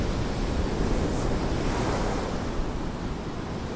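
Big sea waves roll and wash along the Blackpool seafront, a continuous broad roar of surf mixed with wind buffeting the microphone, steady and fairly loud throughout.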